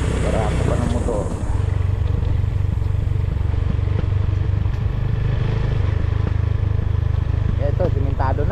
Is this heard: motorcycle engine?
yes